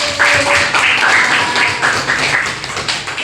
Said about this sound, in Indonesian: Tepuk tangan untuk Bu.